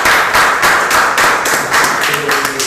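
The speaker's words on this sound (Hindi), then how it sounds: "तालियां हो गए एक बार" At an awards function, an audience claps in brisk, dense bursts, loud and close, with a pulsing rhythm across the short stretch.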